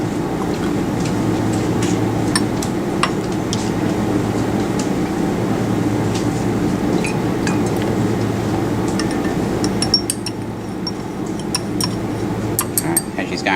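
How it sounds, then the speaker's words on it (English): Reagent stirred into a buffer solution in a lab, with soft glassy clinks and light swishing over a steady, constant background hum. "go ahead and add that into the solution and give it a little bit of a stir"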